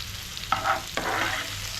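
Papadam pieces sautéed in a pan with chopped shallots until golden brown, two quick stirring scrapes over a low steady sizzle, close and brief.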